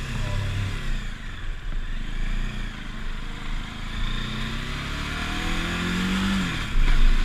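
A car engine revs steadily with a continuous mid-range drone, rising slightly louder near the end, heard alone without talk.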